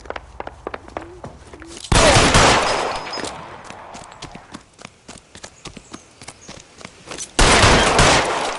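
Bursts of gunfire in L.A. Noire, loud broadband volleys at the start and end with sharp individual shots and hoof-like clip-clop knocks rattling in between.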